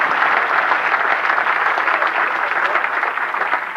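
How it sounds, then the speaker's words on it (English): Steady round of audience applause for a performer, dense continuous clapping at an even level throughout, alone without talk. "Give him a round of applause."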